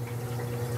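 Water steadily filling a container while an anemone hermit crab and a feather duster are drip acclimated, a continuous low trickling hum with no break, close and moderately quiet.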